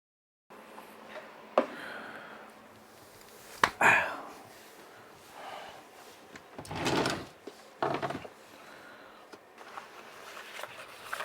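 A drawer packed with daily long-term medicines slides open with several wooden knocks and rattling, scraping movements, close and fairly loud, followed by softer rummaging of the contents, with no talking.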